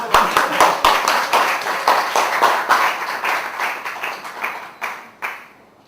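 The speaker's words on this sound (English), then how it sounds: "Now clap for yourself." Audience members at a business plan competition clap for themselves, loud, near, rhythmic handclaps that fade out, followed by a few final isolated claps.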